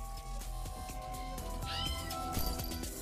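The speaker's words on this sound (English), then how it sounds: "I have a feeling this kitten is asking us to help him out." A kitten in the video game There Is No Game: Wrong Dimension gives a series of soft, drawn-out meows over a continuous layer of game music and ambience.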